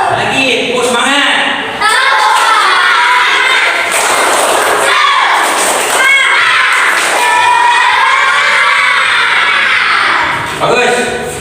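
A class of children doing the 'tepuk semangat' clapping routine in a classroom, loud bursts of group clapping under chanting and shouting voices.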